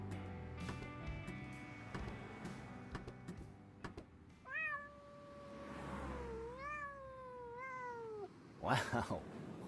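Cat meowing in the video game Randal's Monday, a few drawn-out wavering meows rising and falling in a quiet alley scene, followed by a brief louder yowl, with some background clatter.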